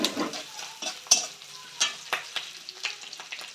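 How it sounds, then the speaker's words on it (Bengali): Food frying in a pan while being stirred for a curry of shrimp, potato, radish and eggplant, with ingredients sizzling and scraping in short bursts and sharp clinks close by, no talking. "লাল লাল করে একটু ভাজতে হবে তারপরে আমার ভাজা রেডি"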